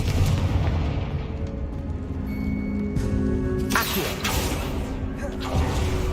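A Confringo fire spell cast in Hogwarts Legacy, a loud burst with a crackling, creaking blast over a dense rumbling game soundscape.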